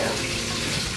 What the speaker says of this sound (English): That means it's time to add the water.